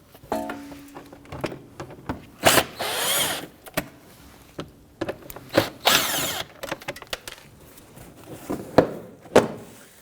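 A power tool loosens and removes three 7mm screws around a duct behind the front fender liner of a 2011-2023 Dodge Charger 3.6L V6, in short bursts of whirring separated by pauses and handling clatter.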